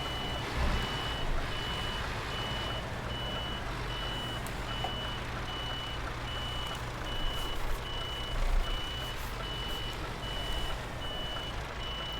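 A truck in the Euro Truck Simulator 2 video game reverses a trailer, its reversing alarm beeping at a steady even pace over a constant low engine rumble.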